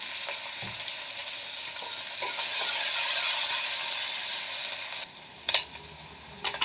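Onions sizzle steadily in a hot pan for vangi bath cooked in a pressure cooker, a continuous frying hiss that swells and then drops away, followed by a few sharp scraping stirs of a utensil.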